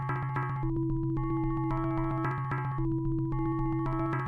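Sega Genesis music from Adventures of Batman and Robin: a dense synthesized track with a steady bass pulse, layered tones and shifting melodic lines in repeating bars, loud and alone.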